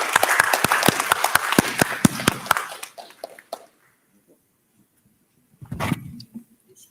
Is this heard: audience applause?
yes